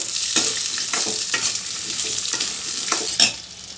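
Spices and ingredients fry in a pan for a Karnataka holige saaru, a continuous sizzle broken by repeated scraping stirs of a spatula at irregular intervals, close and clear.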